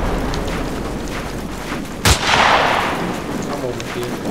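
A single sharp, loud gunshot crack from the Battlefield 2 video game stands out against a dense, rumbling backdrop of distant combat noise, followed by a brief swelling roar.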